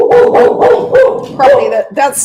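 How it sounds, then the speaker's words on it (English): A pet dog barks repeatedly at home, five or six loud, close yaps in quick succession while someone speaks briefly over them. "Sorry for my dog barking in the background."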